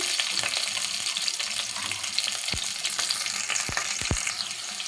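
Green chilies crackle and fry in hot oil for semiya upma, a steady loud sizzle with a few sharp pops near the end, no talking.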